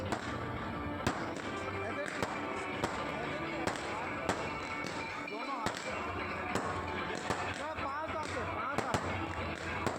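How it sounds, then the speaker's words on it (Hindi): Fireworks going off at a wedding celebration: sharp bangs and crackles scattered through a noisy, crowded scene, with people talking throughout. "और आतिशबाजी हुई इस तरह से।"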